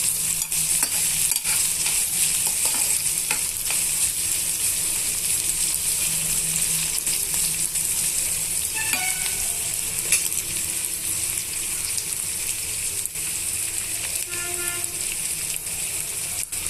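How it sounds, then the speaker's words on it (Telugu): Finely chopped green chillies fry in hot oil in a pan for tomato bath, a steady, loud sizzle running throughout with occasional stirring scrapes. "సన్నగా కట్ కట్ కట్ చేసి పెట్టుకున్న రెండు పచ్చిమిర్చిని యాడ్ చేస్తున్నానండి ఇవన్నీ కూడా బాగా వేగనిద్దాము"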